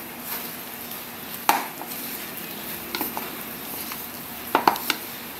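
A spoon works margarine into a thick cookie dough in a bowl, giving a few soft clacks and scrapes against the bowl amid quiet pauses, close and fairly faint.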